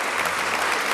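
Dense, steady applause from an audience at an award ceremony, a continuous roar of many hands for a brief moment.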